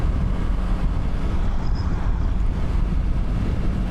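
Roaring, buffeting wind noise on a motorcycle helmet microphone at about 70 mph with the visor fully shut, a dense, continuous rumble with no voices.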